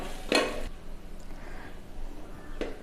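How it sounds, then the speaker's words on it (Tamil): A spoon stirs drained, cooked home rice in a pot, with two brief scraping strokes, one near the start and one near the end, against a quiet background. "இப்போ இந்த அளவில் இருக்கும்போது நம்ம சாப்பாடை கிண்டிடலாம்"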